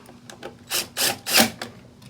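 A ratchet with a 7mm socket turns a fastener on an arcade joystick, making a short series of close clicks and three louder ratcheting strokes over about two seconds.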